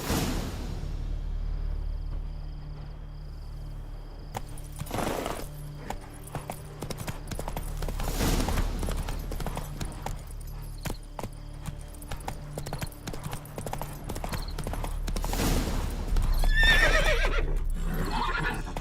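Roach, the horse in The Witcher 3, galloping with rapid rhythmic hoofbeats alongside whooshes and a loud neigh toward the end, with continuous game background sound and no talking.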